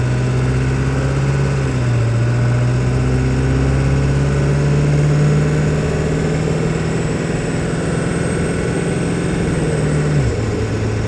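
A Ford 7.3 Powerstroke diesel truck engine with custom tuning runs steadily at a loud, close, constant idle-like drone, with a faint high turbo whine above it and no talking.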